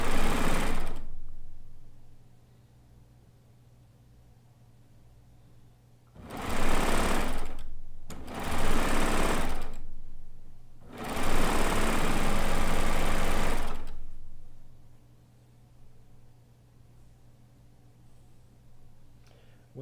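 A sewing machine runs a chain stitch in four separate loud bursts, each a few seconds long, with quiet pauses between them.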